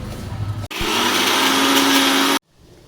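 A loud, steady mechanical whir of a mixer grinder grinding masala for fish curry runs for nearly two seconds, then cuts off abruptly, leaving a quieter background.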